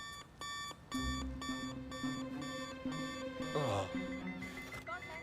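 An electronic alarm clock rings in a movie scene, repeating a fast, steady pattern of bright beeps that stays loud throughout, with a brief sliding sound effect and faint voices underneath.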